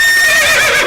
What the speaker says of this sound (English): No, you brought out the horse.